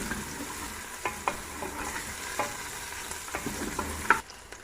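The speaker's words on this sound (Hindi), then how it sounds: "इनको थोड़ा सा फ्राई करूँगी ताकि इनकी स्मेल ख़त्म हो जाए" Mutton trotters fry with garlic and onion in a pan, a steady close sizzle punctuated by several sharp knocks and scrapes of a spoon against the pan, no talking.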